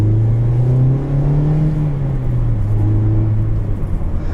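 Engine of a 2019 Mazda Miata RF with a manual gearbox, blipped during a heel-and-toe downshift: a low rumbling hum that swells briefly, then eases back and settles into steady cruising drone, heard close from inside the cabin.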